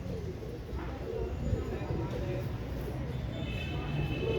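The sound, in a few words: pigeons cooing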